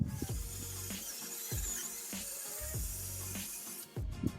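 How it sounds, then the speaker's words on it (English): A power drill bores a hole through the interior wall of a sailboat cabin, its motor whining steadily with repeated bursts and pauses as the bit bites in, close and fairly loud. "The first hole that I drilled was in the position right above our sofa"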